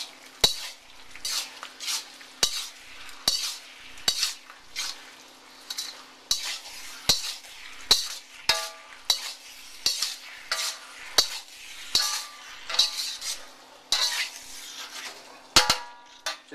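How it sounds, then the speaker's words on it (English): A utensil stirs cornstarch slurry into a simmering Szechuan-style eggplant and minced pork sauce in a pan, making repeated sharp scraping clinks in an irregular rhythm over a quiet sizzle. "I'm going to stir in the 1 level tablespoon of the cornstarch suspension."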